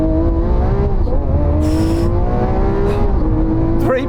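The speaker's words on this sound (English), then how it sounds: "Right, I'm going to launch this Aventador S." A Lamborghini Aventador S launches and accelerates hard, its engine note climbing loudly through rising revs with brief breaks as it shifts, close and alone.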